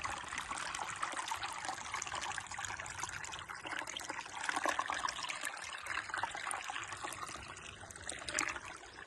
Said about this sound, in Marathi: प्रवाह अगदीच छोटा आहे पण तरी सुद्धा त्याचा एक ऐकायला मिळाला